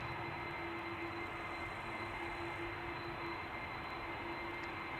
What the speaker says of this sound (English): we can already hear yet another A330 by Delta